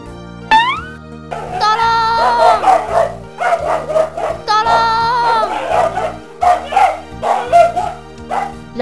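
A dog barks repeatedly in short, sharp bursts mixed with whiny yelps, fairly close, over a steady low background hum.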